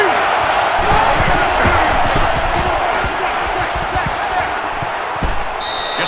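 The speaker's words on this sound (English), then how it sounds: "This crowd can really be intimidating for an opposing team." A stadium crowd roars in a college football video game between Florida and Mississippi State, a loud, continuous wash of noise with thuds and swells throughout.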